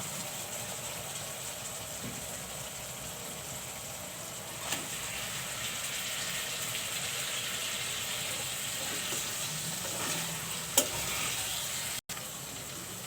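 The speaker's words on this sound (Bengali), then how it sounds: "মশলাগুলো কষানো হয়ে গেছে এখন আমি চিংড়ি মাছগুলো দিয়ে দিচ্ছি" Prawns hit a pan of cooked-down spice paste and are stir-fried, giving a steady, broad sizzle that holds at an even level throughout, with a few faint scrapes and one sharp clack near the end, and no voices.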